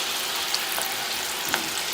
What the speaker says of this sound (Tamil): இப்போ நம்ம இது பொரிக்கிறோம்